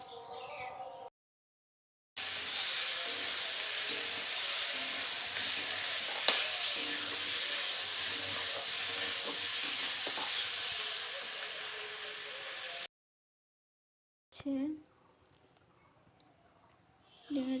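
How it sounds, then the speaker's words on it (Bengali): Curry, an egg and potato gravy, sizzles and fries in a pan while it is stirred, a steady close hiss with occasional scrapes, set between short silent gaps with faint sounds after. "এখন তরকারিটা রান্না করে নিব।"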